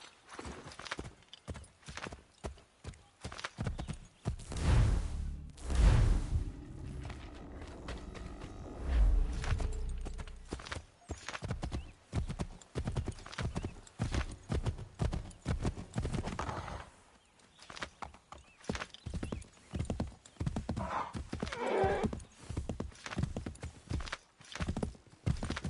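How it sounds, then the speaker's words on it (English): A horse in Assassin's Creed 3 clip-clops along in quick hoofbeats with a loud whinny early on, the galloping steps continuing steadily throughout. "Ooh, horsey."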